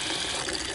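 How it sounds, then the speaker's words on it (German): Water from a homemade filter runs steadily, a continuous wet trickling and splashing sound held at an even level for the whole moment, with no voices. "man kann schon unten erste Tropfen ankommen sehen"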